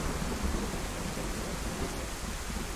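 Rain and thunder in the survival video game DayZ: a dense, steady downpour hisses throughout, with deep thunder rumbling underneath, loud and continuous with no voices.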